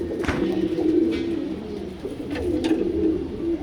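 Black-necked pigeons of an old pure bloodline, bred as strong flyers, coo close by, a low repeated rolling call that swells and fades several times over faint background noise, with no talking.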